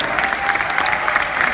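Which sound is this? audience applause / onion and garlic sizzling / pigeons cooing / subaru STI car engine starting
audience applause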